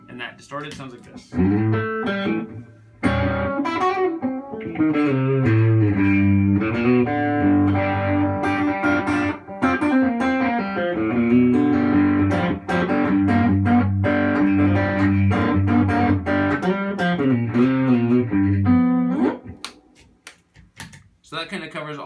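Distorted electric guitar, a Telecaster with all three pickups selected together, playing a continuous run of gritty, squawky chords and riffs for about twenty seconds, loud and close, then stopping abruptly.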